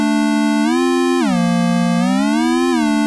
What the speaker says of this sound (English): A square wave will do fine.